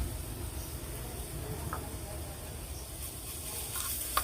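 Carrots frying in oil in a home kitchen, giving a soft, steady sizzle and hiss beneath a low background rumble, with no talking.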